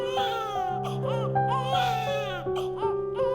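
A baby's crying sound effect from a Tamil story, with wavering, sustained wails and short sobbing breaks running steadily throughout, fairly loud and close with no talk over it.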